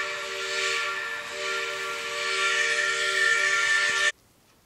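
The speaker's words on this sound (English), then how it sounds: "Erie 2396. Beautiful whistle." Erie 2396 steam locomotive whistle blowing one long, loud, steady blast for about four seconds, rich and harmonic over a hiss of steam, then cutting off abruptly into quiet.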